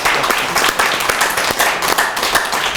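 Audience applause at a religious humanities lecture hall, a steady spread of many hands clapping at moderate distance, filling the room evenly throughout.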